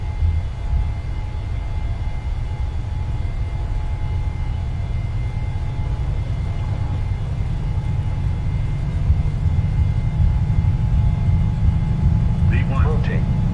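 A PMDG 737-900ER's jet engines at takeoff power in Microsoft Flight Simulator, a steady, loud low-pitched roar that swells slightly as the run continues, with a voice briefly over it near the end.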